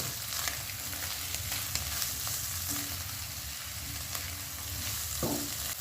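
Chicken and chopped onion stir-fry over a high gas flame for chicken soup, a steady sizzle with occasional scraping and tapping of a spatula against the pan.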